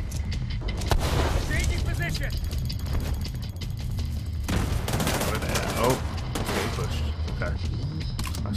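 Shotgun gunfire in The Division 2, with repeated loud blasts and a burst of rapid shots mixed with other gunfire, heard alongside talking throughout.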